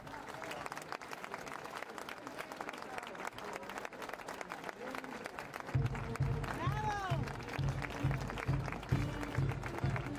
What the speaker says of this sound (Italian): Con il vostro applauso.